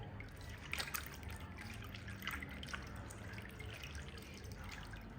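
Guinep drink draining through a rice washer, a faint close trickle with scattered drips pattering into liquid, steady and quiet throughout.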